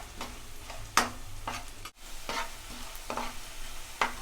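Black pepper and cumin fry in hot oil with a steady sizzle, punctuated by a series of sharp, regular spoon scrapes and taps against the pan, close and clear with no voices.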